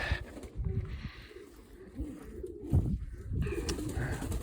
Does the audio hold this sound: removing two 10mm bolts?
no